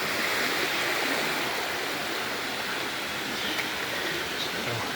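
A waterfall roars as a dense, steady rush of falling water along a nature trail, loud and unbroken for the whole stretch.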